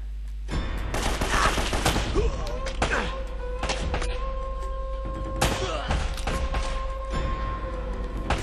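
Rapid gunfire in the video game Uncharted: Drake's Fortune, a dense fusillade of shots and heavy thuds running nearly throughout, loud and close, with a steady electronic tone sounding in the background partway through.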